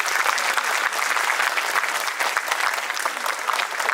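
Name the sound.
audience applause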